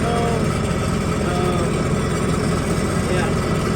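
A John Deere 6430 4x4 diesel tractor engine runs at low throttle, a close, steady throbbing rumble that holds an even level throughout with no clear rise in revs.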